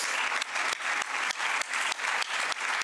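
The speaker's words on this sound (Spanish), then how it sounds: "los Padilla, para quienes quiero pedir un caluroso aplauso, porque son muy modestos." Warm applause from an audience at a public policy forum on sustainable development, a continuous wash of clapping pulsing in regular surges, with no voices over it.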